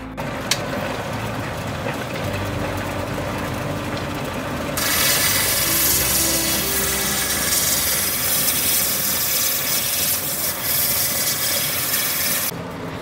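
A Mexican agate is ground on a Kingsley North 8-inch cabbing machine, giving a steady close motor hum with a harsh abrasive grinding rasp that swells loud in the middle and runs continuously, with no talking.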